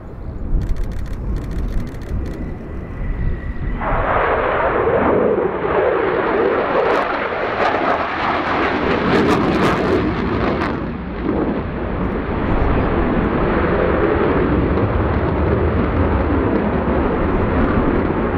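A Belgian Air Force F-16 making a fast pass at an air display produces a sudden, massive jet roar that swells and rumbles loudly for many seconds, heard from the crowd line.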